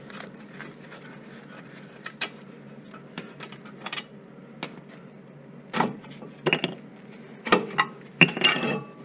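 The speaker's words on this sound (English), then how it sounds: "Then we'll just take out them 2 bolts." Bolts are worked loose from a car's brake caliper during a brake change, heard as scattered metallic clinks and taps, sparse at first and then busier, close and moderately loud.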